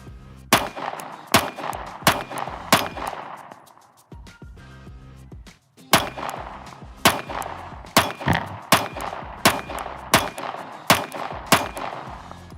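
Sig Sauer P365 X-Macro pistol fired in sharp, loud single shots, a quick string of about five, a short pause, then a longer rapid series of evenly spaced reports.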